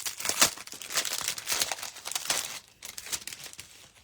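Decorative patterned craft paper handled close up, giving soft irregular crinkling and rustling bursts with brief tearing-like crackles, quiet and uneven, with no speech.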